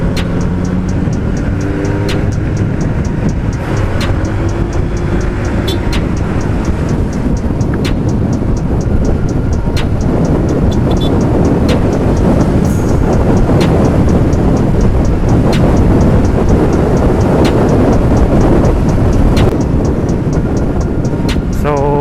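A motorcycle engine drones steadily throughout, with continuous road and wind rumble as it rides along in Cuyapo, Nueva Ecija; no voices stand out.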